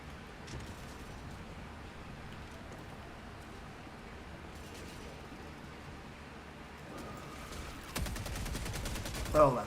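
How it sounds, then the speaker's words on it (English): In Helldivers, a grenade pistol blasts gates. A low, steady rumble of combat noise gives way near the end to a sharp, loud run of crackling explosive bursts that peaks at the close. "occasionally, you get to use grenade pistol to do this to gates"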